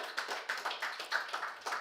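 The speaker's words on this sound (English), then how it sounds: "Another huge round of applause for him." An audience gives a round of applause at a conference on gold and liquidity in Ghana, a brief burst of claps with a few distinct individual hand claps standing out, no voices.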